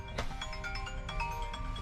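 A phone ringtone plays a steady electronic melody, moderately loud and alone, lasting a couple of seconds.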